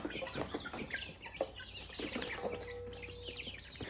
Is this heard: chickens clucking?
yes